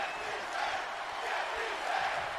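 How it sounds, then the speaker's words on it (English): An arena crowd in the WWE 2K20 wrestling game at a Survivor Series event, a dense, steady roar of many voices chanting together, loud and continuous without pauses. "Get these hands chants from the crowd"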